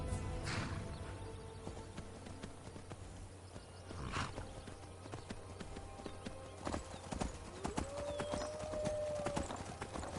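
Horse hooves clip-clop steadily on a hard surface in the video game Skyrim, fairly close, with a faint whinny and some quiet background sounds.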